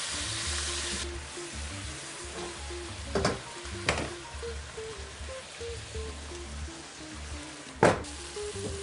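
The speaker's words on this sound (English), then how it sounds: "I'm going to give the onions a little bit of a stir" Onions for onion soup sizzle softly in a pot under a light, steady crackle, with a few louder scrapes and knocks as a utensil stirs them.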